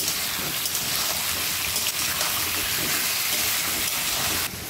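Ginger-garlic paste frying in a pan of hot oil for a Bengali fish dish, a steady, dense sizzle that holds evenly throughout, loud and close, with no talking.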